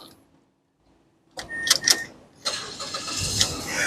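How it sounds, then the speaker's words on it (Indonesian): A 2013 Mazda Biante 2.0 automatic engine cranks briefly, then catches and settles into a steady running hum after a moment of near silence. "Sekarang kita coba langsung nyalakan mobil."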